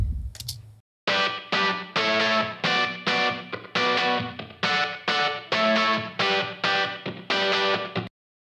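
A distorted main guitar sent to an Ocean Way Room reverb plays a chugging rhythm of repeated strummed chords in steady bursts, loud and alone, ending abruptly after about eight seconds.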